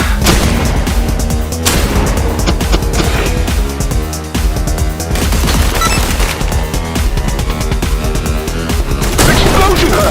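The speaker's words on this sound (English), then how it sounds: "Explosion heard." Heavy video-game combat with dense, continuous bursts of gunfire and booming explosions, loud and close throughout, with a big blast near the end.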